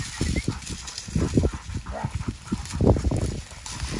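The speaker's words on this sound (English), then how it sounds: "Dog was bringing back the pheasant I just shot." A hunting dog retrieving a freshly shot pheasant outdoors, with irregular thumping footfalls and rustling movement close by, rising and falling in bursts.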